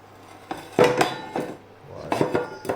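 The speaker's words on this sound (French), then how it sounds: "Avec la casserole, la semelle de la casserole, je l'active." A metal saucepan base is set down on an induction coil, giving a few close clanks and scrapes of metal against the cooktop surface over a low electrical hum.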